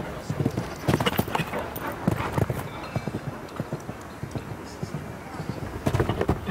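Horse's hooves clip-clop in a steady galloping rhythm during a show jumping round at the Piazza di Siena 2021 Grand Prix in Rome, with a commentator talking over the repeated strides.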